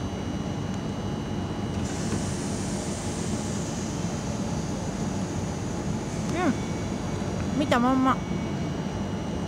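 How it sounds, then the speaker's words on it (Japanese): A train pulls into a station for the line to Sintra near Lisbon, a steady broad rumble with a high whine and brief squeals of brakes near the end, while someone speaks briefly over it. "シントラ行きの電車が来ました"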